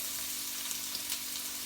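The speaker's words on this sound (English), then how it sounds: "which I'm just pan frying them off at the moment" Pre-prepped king prawns pan frying give off a steady, close, even sizzle that holds level throughout, with faint crackles and no voices.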